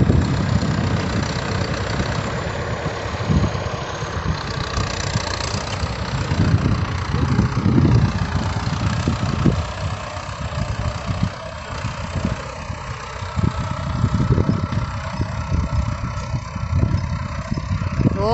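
A large farm tractor's engine idles steadily on a dairy farm hillside, a continuous low rumble with occasional rougher pulses, while people talk over it.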